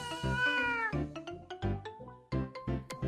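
A cat meows repeatedly in a string of short, clear, close-up calls, each separated by a brief pause, with no other sounds around them.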